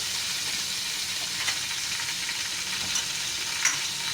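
Black pepper and cumin seeds fry in a pot for pulao, making a soft, even sizzling hiss with a few faint pops and stirring scrapes.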